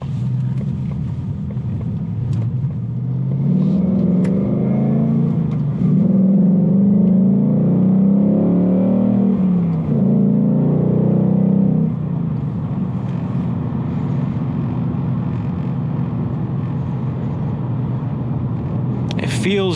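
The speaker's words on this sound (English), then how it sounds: "It is just a fantastic driving vehicle." A 2019 Ford Mustang GT on a test drive, its engine a low steady rumble that swells into a louder surge of acceleration for several seconds before settling back to cruising drone.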